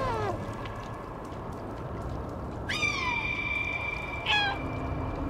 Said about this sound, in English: Yeah, they all are meowing.